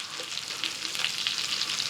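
Mutton chops, also called goat chops, fry in a pan while being turned so both sides crisp, giving a steady, close sizzle with crackling pops and no talk.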